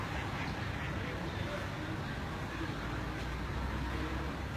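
Dense chorus of many ducklings of laying ducks peeping and quacking continuously at close range in a hatchery nursery pen, with a steady hum of background noise and faint voices.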